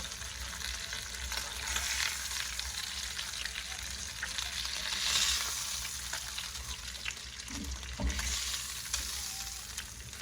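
Sliced vegetables, including yellow squash, fry steadily in a hot pan with a continuous crackling sizzle, with occasional stirring and scraping sounds and a brief clunk near the end.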